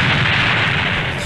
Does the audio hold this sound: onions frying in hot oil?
no